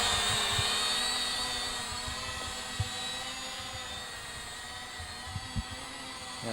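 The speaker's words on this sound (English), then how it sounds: "So we're going to hit the one button takeoff." A BEZGAR BD101 foldable camera drone lifts off with one-button takeoff, its propellers whirring in a steady, loud, high-pitched drone that holds throughout, with a few faint knocks underneath.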